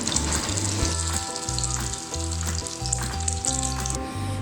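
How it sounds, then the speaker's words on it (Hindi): Potato chicken kababs coated in egg fry in hot oil with a steady sizzle, running beneath background music with a plodding bass line throughout. "अब हम इन्हें फ्राई करेंगे। मैं अंडे के साथ फ्राई करूंगी"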